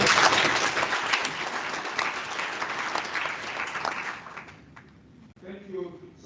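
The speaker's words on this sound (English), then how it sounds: "you deserve another round of applause" Audience applause at a university and biosphere anniversary celebration, a dense sustained clapping that fills the first four seconds and then fades, with a voice starting to speak at the end.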